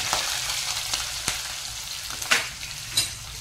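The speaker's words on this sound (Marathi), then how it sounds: "छान असं परतून घ्यायचं।" Onion fries in a pan with green chili, curry leaves and bay leaf for Maharashtrian dal khichdi, a loud, close sizzle with quick scraping clicks as it is stirred.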